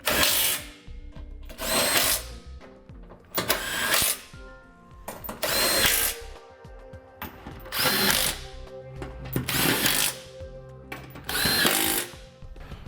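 A power tool drives the rear bolts into a Roadmaster base plate on a 2015 Jeep Cherokee in about seven loud, close whirring bursts separated by short pauses.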